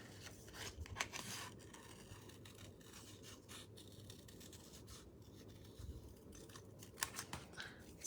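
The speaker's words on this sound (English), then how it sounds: "And Megan does say I'm Speedy Gonzalez at fussy cutting" Close, crisp snipping of scissors fussy cutting paper, steady quiet rasping cuts with a few sharper snips, a craft session on a faux watercolour background card project.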